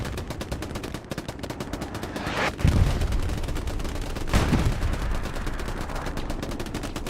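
Gunfire in the World War II shooter Hell Let Loose: rapid, relentless machine-gun and rifle bursts rattle throughout, with two heavier, close cracks standing out midway.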